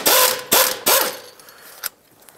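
A ratchet wrench with a 14 mm socket loosens the idler pulley bolt on a 2003-09 Toyota 4Runner, three loud close clicking pulls in quick rhythm followed by a fainter final click.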